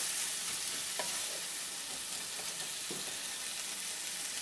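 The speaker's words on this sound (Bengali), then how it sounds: "মশলার সাথে ভালো করে এটাকে মিশিয়ে নিচ্ছি।" Banana stem and shrimp frying with spices in a pan, a soft, continuous sizzle with occasional quiet scrapes as the mixture is stirred, fairly faint and without talk.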